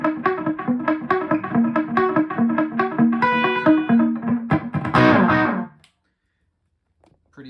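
Electric guitar notes ring with a rhythmic dotted-eighth delay from a TC Electronic Hall of Fame 2 Mini reverb pedal, 300 ms pre-delay, echoing each note, building into a dense shimmer before cutting off to silence.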